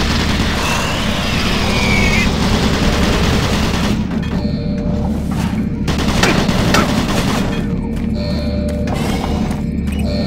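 Automated turret guns in Doom 3 fire continuous rapid bursts of heavy gunfire over a constant rumbling background, loud and close throughout.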